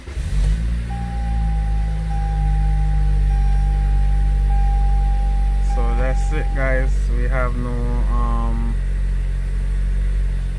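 A 2018 Toyota Camry with a freshly replaced battery sits running at a steady, close idle; a voice speaks briefly over the engine near the end.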